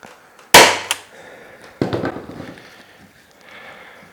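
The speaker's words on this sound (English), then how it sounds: "and staple this." A staple gun drives staples through flywire into a transom insert on an 1880 house renovation, firing two sharp, loud cracks a little over a second apart, each followed by a short rattle.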